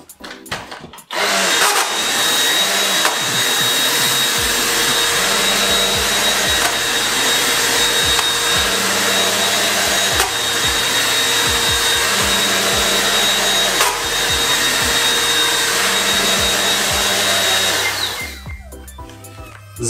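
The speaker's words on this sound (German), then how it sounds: "ihr hört dann natürlich auch die Geräuschentwicklung von der Maschine" A Rowenta Air Force All in One 460 cordless vacuum cleaner runs continuously at close range, giving a loud, steady motor whine with a faint high tone and occasional low knocks as it moves over the floor.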